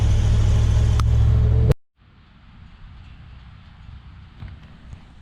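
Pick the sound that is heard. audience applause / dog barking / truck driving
truck driving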